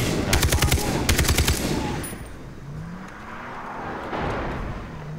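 Automatic gunfire from the Far Cry 3 video game rattles in two quick bursts of rapid shots, loud and close, then fades into a quieter game ambience with faint rumbling.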